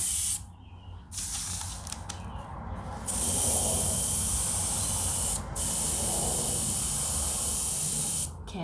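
A cheap spray tool misting pottery glaze onto a test piece, giving a loud steady hiss in long bursts broken by brief pauses, close and without talk.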